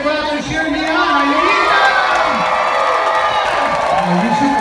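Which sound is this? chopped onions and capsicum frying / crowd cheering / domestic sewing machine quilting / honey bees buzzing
crowd cheering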